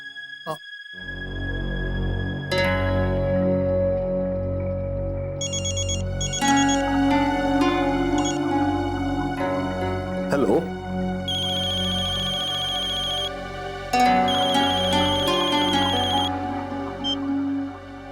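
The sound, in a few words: phone ringtone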